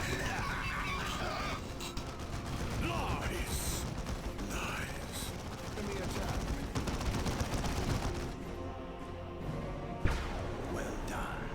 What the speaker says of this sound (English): I can't hear over the gunfire.